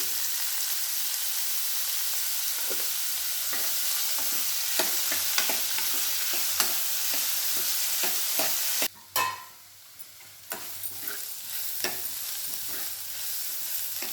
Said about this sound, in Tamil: நல்லா வதங்கிடுச்சு வெங்காயம்